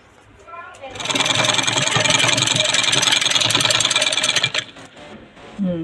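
A sewing machine runs for several seconds stitching the lining of an Anarkali suit made from an old sari, a close, fast rattling hum that starts and stops, with speech around it.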